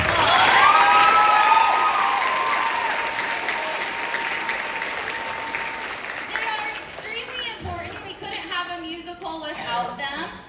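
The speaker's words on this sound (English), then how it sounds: "everybody give our band a round of applause." Sustained applause from a school audience for a pit band at an elementary students' music preview day, loud at first and gradually fading, with children's voices and chatter rising toward the end.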